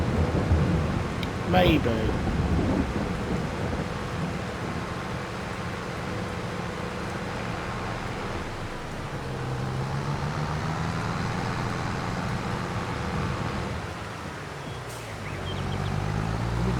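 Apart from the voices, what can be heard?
rain and thunder in Farming Simulator 22 video game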